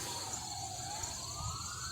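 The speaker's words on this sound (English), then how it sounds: "Oh man, these sirens are..." A wailing siren sweeps slowly up and down in pitch over steady background rumble, with a second high tone sustained above it.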